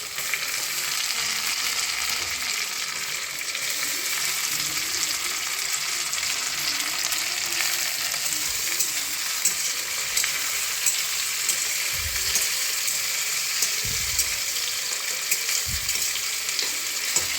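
Chopped tomato sizzles in a hot pan with a loud, steady hiss, a few dull knocks from the utensil near the end.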